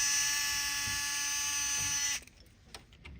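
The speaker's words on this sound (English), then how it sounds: "Next, you're going to remove 4 screws." A powered screwdriver whirs in one steady, close, high-pitched run while removing screws from a Xerox 78xx printer fuser, then stops abruptly and leaves a few faint handling clicks.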